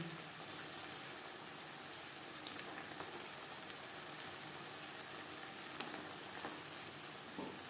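Potatoes frying with spices in a pan over a low-to-medium flame, with green peas added, give a faint, steady sizzle and hiss throughout with a few soft clicks and no talking.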